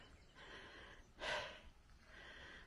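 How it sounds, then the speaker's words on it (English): Heavy breathing of a walker on a steep hill along the Camino between Belorado and San Juan de Ortega, faint and close, with a few rough breaths and one stronger exhale in the middle. "Excuse the heavy breathing."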